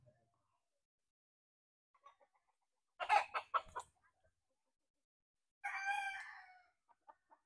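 White kelso broodcock rooster crowing twice, first a choppy burst of calls and then a longer drawn-out crow, with faint clucks around them against near silence.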